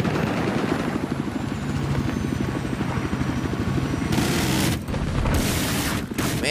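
A helicopter in the video game Battlefield 4's Siege of Shanghai map drones loudly with a fast, steady rotor chop, joined by bursts of gunfire and airburst explosions.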